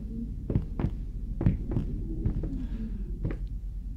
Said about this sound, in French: Le mec qui descend les marches, c'est un battement de cœur.